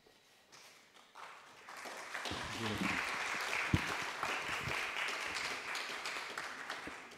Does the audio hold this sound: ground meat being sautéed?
no